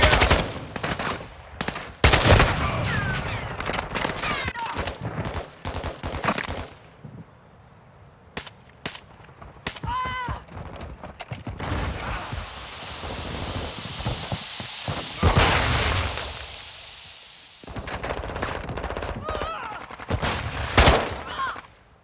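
Gunfire in Call of Duty: Modern Warfare II, rapid bursts of automatic shots and scattered single cracks, loud and close, coming in dense clusters with brief lulls and some background battle noise.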